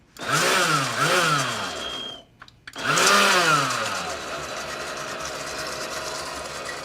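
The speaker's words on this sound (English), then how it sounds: "so now we're just going to blend up your That's right. vinaigrette." Loud kitchen blender whirring through vinaigrette for apples with goat cheese and pecan dip, two pulsing runs broken by a short stop, then a steady roar that slowly fades.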